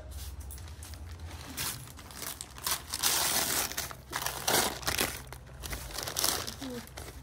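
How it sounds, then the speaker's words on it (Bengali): Birthday gift packaging being torn and crinkled open, paper or plastic rustling in bursts that swell and fade, close and moderately loud, with faint background noise and a soft voice-like sound at moments. "এই যে আরেকটা গিফট খুলছি এখন।"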